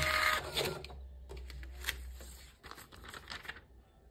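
An Epson TM-T88V receipt printer feeding paper, short bursts of whirring, clicking mechanism noise separated by brief pauses, close and fairly quiet.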